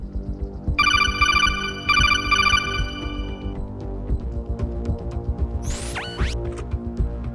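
A phone-box telephone in the video game Arma Reforger rings in two short electronic bursts near the start, then falls silent under ambient game noise.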